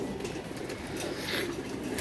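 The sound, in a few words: pigeons cooing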